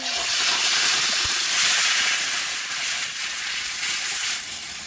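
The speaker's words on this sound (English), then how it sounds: "we're going to keep frying the tomatoes until it gets like a dark maroony red colour" Onions and canned tomatoes frying together in a pan as a curry base, giving a steady, loud, hissing sizzle that holds evenly with no talk.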